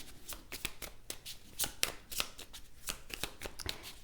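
A deck of tarot cards being shuffled by hand, a quick run of crisp riffling flutters and taps, close and fairly quiet, with no talking.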